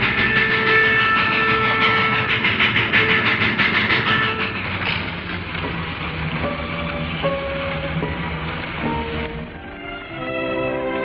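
A train rumbles along steadily with a dense, continuous mechanical roar and rattle, loud and close, with some tonal squeals and hums toward the end.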